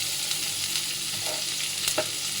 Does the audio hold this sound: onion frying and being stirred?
yes